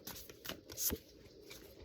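Tarot cards are shuffled by hand in a few quick riffling and sliding bursts, close and soft, with no talking.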